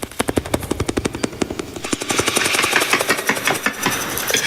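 A voice imitates a helicopter, a rapid chopping pulse of rotor-like beats that starts distinct and then thickens into a dense, continuous whirring roar, close and loud.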